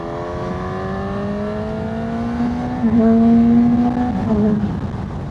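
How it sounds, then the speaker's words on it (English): A Honda CB1000GT motorcycle carrying two up pulls hard in third gear to overtake on a bend, its engine note rising steadily and strongly, close and loud, with a brief surge midway as it climbs. "We'll do a nice third gear roll-on overtake on the bend."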